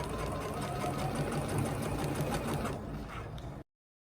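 A sewing machine runs steadily at close range, a continuous rapid whirring stitch for several seconds while hemming a suit coat seam, then stops abruptly into silence.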